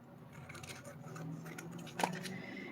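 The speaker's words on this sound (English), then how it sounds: "Then I'm going to grab my scissors, trim away that excess foil that's hanging off." Scissors snipping away excess deco foil from a toner card front, a few short crisp cuts over low room noise, one sharper snip standing out near the end.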